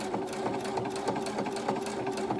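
A sewing machine hums and taps rapidly while quilting a pillow cover, a close, even mechanical pulse with a steady motor tone underneath.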